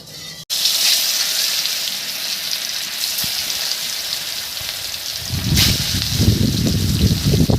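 Fish fries in hot oil in a kadai for a tomato and potato fish curry, a loud, close, steady sizzle that starts abruptly and swells into heavier crackling spatter near the end.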